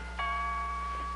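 A doorbell chimes once, a clear two-tone ding-dong with sustained ringing tones over a low steady hum in an indoor household scene.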